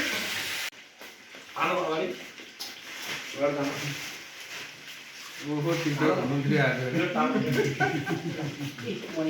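Buffalo meat sizzles and fries steadily in a pan during a New Year family meal, a close, continuous hiss with occasional stirring, while people talk over it.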